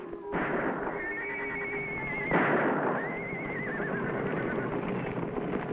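A horse whinnies twice over a dense, noisy background, the high neighing calls rising and wavering, the second coming after a brief burst of louder noise.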